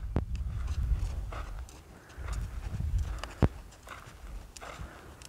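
A horse walks in a round pen, hooves thudding in a loose, irregular clip-clop with one sharper knock, close by and moderately loud with no voices.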